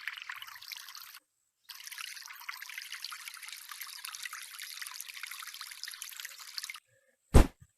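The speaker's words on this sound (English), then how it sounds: "now what we take is our watering can" Water trickles from a watering can onto planted seeds in the Harvest VR farming game, a soft steady pour in two stretches split by a short pause, followed by a brief sharp sound near the end.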